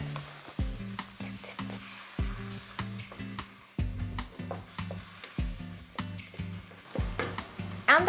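Thai green curry paste frying in cooking oil in a pan while being stirred, a close sizzle broken by repeated rhythmic scraping strokes, about one or two each second, with no talking.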